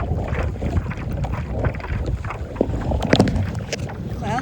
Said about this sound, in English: Wind's picking back up a little bit.